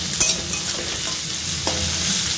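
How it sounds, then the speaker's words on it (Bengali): Leafy greens frying with chilli, garlic and onion in a wok, a close hissing sizzle with a few sharp stirring scrapes and taps. "আর এখানে এখন করবো হচ্ছে যে শাক ভাজা"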